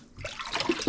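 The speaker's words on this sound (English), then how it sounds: "So just take some nice cold fresh water," Cold fresh tap water runs over fish fillets in a sink to rinse off salt water, a soft close trickle and splash that builds after a quiet start and carries on through the short moment.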